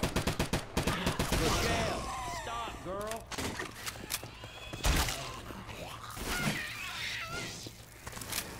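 Gunfire in Left 4 Dead 2 in realism mode, rapid bursts of shots at the start and scattered blasts later, mixed with voices talking and game noise.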